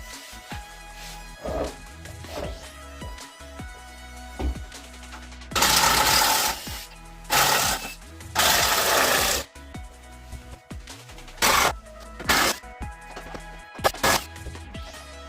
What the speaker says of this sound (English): Life is so much easier with an electric screwdriver.